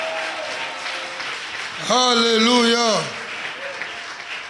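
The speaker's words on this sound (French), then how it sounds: "Give the Lord a big clap of it." A church congregation claps for the Lord during a worship service, with steady, dense applause throughout and a voice shouting out briefly over it midway.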